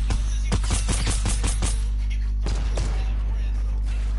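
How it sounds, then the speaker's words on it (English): Rapid bursts of gunfire in the video game Fortnite: a quick run of sharp shots in the first two seconds, then a couple more after a short pause, loud and close over steady background hum. "I can't hit my shots."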